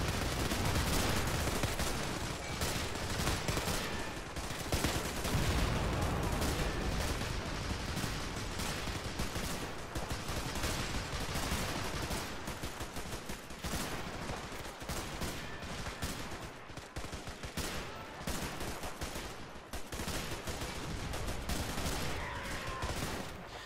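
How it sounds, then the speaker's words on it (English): Intense battle in the World War II strategy game Men of War, with heavy tank cannon fire and infantry gunfire from Allied and German forces. Continuous dense volleys and rapid machine-gun bursts keep it loud throughout, with no pauses. "Despite all the heavy Allied tank fire that they're taking and all the infantry fire as well."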